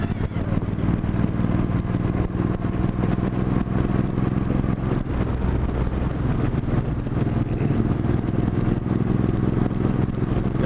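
Yamaha R1 sport bike riding over a bumpy road, with a steady loud engine drone, wind roar and rattling clatter from the rough surface running throughout, close and continuous.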